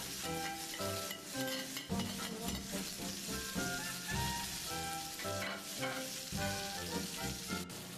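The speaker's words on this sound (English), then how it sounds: "make sure all the sides are browned" Beef rouladen browning in a hot pan, a steady dense sizzle and crackle of frying meat running continuously throughout, close and moderately loud with no talking.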